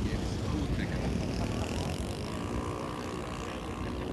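An OS-90 four-stroke engine drives a 14.5-pound Aranca RC model airplane in flight, giving a steady, fairly loud buzzing drone that holds without a break.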